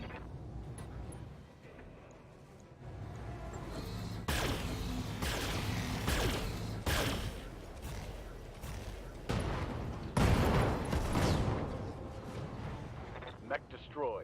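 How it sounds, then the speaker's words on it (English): Artillery barrage in the Battletech video game, heavy booming impacts landing repeatedly over a rumbling battlefield mix, several loud blasts clustered toward the end, with speech present. "Let's keep up the barrage."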